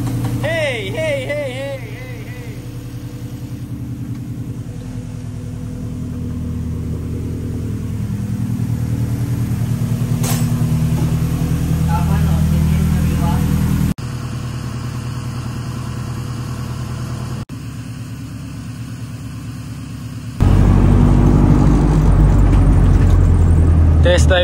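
Honda Civic race car being prepared for racing, heard on a test drive: a steady, loud low engine drone with rises and cuts in level suggesting gear changes, close by, with voices briefly in the cabin.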